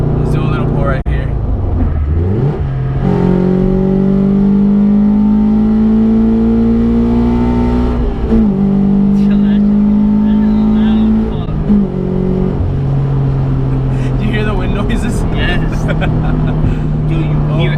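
A 2013 Scion FR-S engine revs up hard through rising gears, loud and close, with roaring pulls and brief shifts between them.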